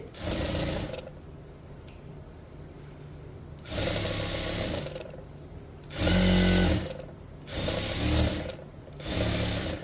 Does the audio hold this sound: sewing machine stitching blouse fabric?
yes